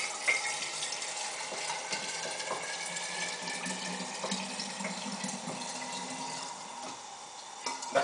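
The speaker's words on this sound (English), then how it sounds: "I usually let the water run for a bit, put some cold water in." Cold tap water runs into a hookah base, a steady close hiss of flowing water with small ticking clicks, continuous for several seconds with a brief lull near the end.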